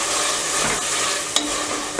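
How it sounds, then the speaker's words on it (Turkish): Chopped onion and red pepper sizzle and crackle steadily in a hot pan, with a brief scrape of stirring partway through, no voices. "Bir iki dakikada bu şekilde kavuracağım."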